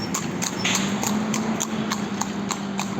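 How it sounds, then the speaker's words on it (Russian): Horses trot past on a village road in Serbia, their hooves beating a regular clip-clop rhythm for several seconds over a steady background hum. "Вот так вот лошадки тут скачут мимо."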